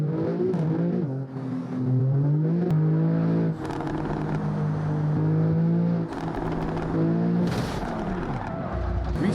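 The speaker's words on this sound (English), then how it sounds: "Now you should have two vehicles driving towards each other." Engine drones and revs from two trucks driving toward each other in a driving simulator game, with rising and falling pitch sweeps and occasional crackles throughout, loud and continuous with no talk.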